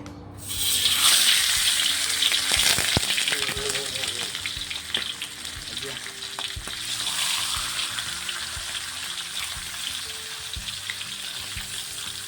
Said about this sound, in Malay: kita goreng ikan dulu